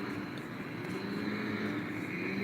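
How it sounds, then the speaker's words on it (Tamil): Airplane coming in to land beside a swimming pool, a continuous distant jet engine rumble and whine holding steady throughout, moderately loud with no talk over it. "ஃப்ளைட்டு வந்து இப்போ தான் ஒன்று இறங்கிட்டுருக்கு"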